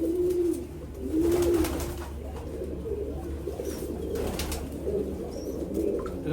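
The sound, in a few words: pigeons cooing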